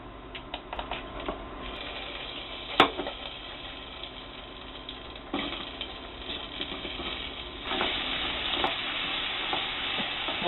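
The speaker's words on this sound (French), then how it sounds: "on va faire chauffer le beurre et un peu de beurre et un peu d'huile pour faire revenir" Quince pieces sauté in butter and oil with a constant crackling sizzle, punctuated by sharp utensil knocks and bursts of scraping as they are stirred, nearby and without speech.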